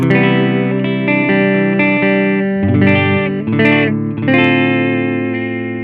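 Electric guitar played through a multi-effects unit set to a Fender Twin amp model, ringing sustained chords and notes with a few sharp attacks, loud and close, no voice.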